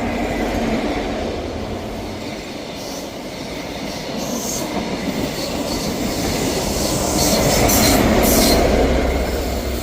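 A Scotrail passenger service from Edinburgh Waverley to Aberdeen rumbles through Inverkeithing station, close and loud, with a steady clatter of wheels and faint squeals, building slightly toward the end.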